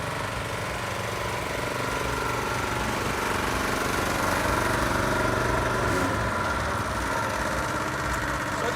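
A Kohler petrol engine drives a belt-driven booster pump unit, running steadily and loudly nearby with a constant rough drone and no speech.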